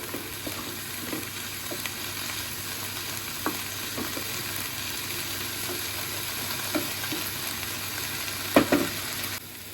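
Vegetables for Maggi noodles sizzling in a pan over a medium-high flame, a steady low frying hiss with scattered soft scrapes and taps of stirring and one louder clatter near the end.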